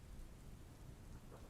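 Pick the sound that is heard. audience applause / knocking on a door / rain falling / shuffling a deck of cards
rain falling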